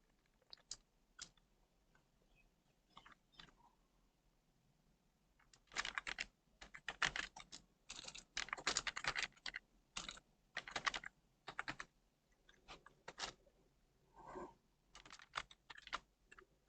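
An address being typed on a computer keyboard in MS Word, with steady close key clatter coming in bursts and short pauses, denser and louder through the middle.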